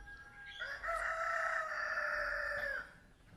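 A rooster on a free-range chicken farm in rural China gives one long, loud, drawn-out crow close by, over quiet outdoor background.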